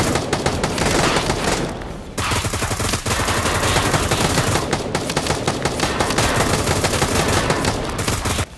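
Sustained rapid gunfire in the VR zombie shooter Pavlov Shack, loud and dense with almost no pause, one brief break early on, then a continuous barrage until the end.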